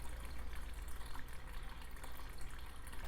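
Water trickles and splashes steadily down a small waterfall in an Amazon-themed paludarium tank, a soft continuous close-up flow with no voices.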